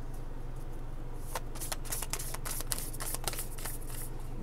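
Tarot cards shuffled by hand in a rapid run of crisp, close riffling flutters over a steady low hum in a quiet room.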